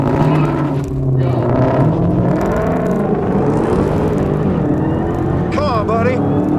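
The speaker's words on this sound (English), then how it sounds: "Oh, wheel spin's gnarly." A race car launches hard from a countdown start with heavy wheel spin, its engine revving loudly in steady rising and falling tones, with a person talking over it throughout.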